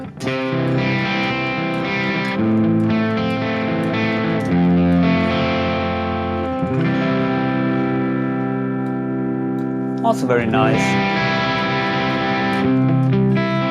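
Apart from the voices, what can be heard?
electric guitar crunch tone through Sonicake Matribox 2 Pro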